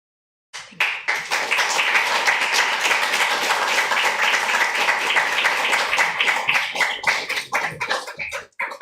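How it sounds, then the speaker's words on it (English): Live audience at an Arabic poetry reading breaks into sustained applause and clapping for three poets, starting abruptly, holding dense and loud, then thinning into scattered claps near the end. "round of applause for 3 poets of the evening"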